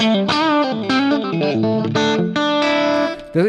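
Electric guitar played through a Fractal FM3 breakup preset sits right at the edge of distortion, with sustained, slightly gritty notes and chords ringing close and loud, ending on a short picked burst.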